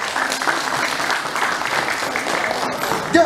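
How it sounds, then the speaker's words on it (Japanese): Audience applause fills a concert hall before a ukulele ensemble performs, a steady dense clapping that stays loud and even throughout. "盛大に拍手お願いします。"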